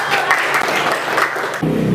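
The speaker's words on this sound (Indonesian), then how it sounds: "Tepuk tangan untuk kelompok 3." Classroom applause for a student group, a short burst of many hands clapping at moderate distance, fading into quieter room noise after about a second and a half.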